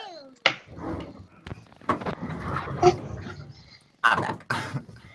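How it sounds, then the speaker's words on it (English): Small dog giving a few sharp, fairly close barks and whimpers mixed in with people talking and laughing. "My little dog."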